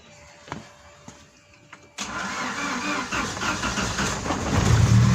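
Opel Kadett engine cranks and catches abruptly after a quiet moment with a faint fuel pump hum, then settles into a loud, steady running note that rises slightly toward the end.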